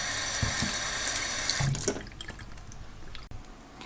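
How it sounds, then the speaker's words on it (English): Room-temperature tap water runs steadily from a faucet into a container, filling it almost to the top, with a continuous rushing pour that thins out as the flow is cut partway through. "You can simply fill it with tap water."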